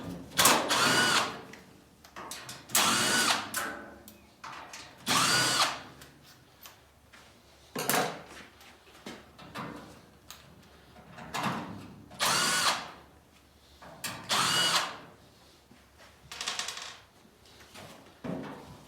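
A power drill backs screws out of the firebox slide on a Masterbuilt 560/1050 grill, with repeated whirring bursts of a second or two separated by short pauses, close and fairly loud.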